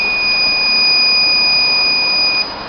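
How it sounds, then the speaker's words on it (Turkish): A Thermo King refrigeration unit buzzer sounds as one loud, steady electronic tone, close by over a mechanical hum, lasting about two and a half seconds before cutting off. "bu görmüş olduğunuz buzzer sinyali ile manuel marş basıyor"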